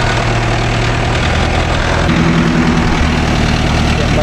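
A Mahindra Novo 605 S tractor engine runs steadily while pulling a 5-point cultivator in a field. It gives a continuous, loud, low idling throb with a knocking rhythm and no break.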